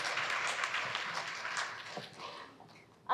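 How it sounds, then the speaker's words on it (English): Audience at a panel discussion clapping, a fairly quiet, steady patter of applause that thins out toward the end before a brief louder sound. "everybody, give a clap"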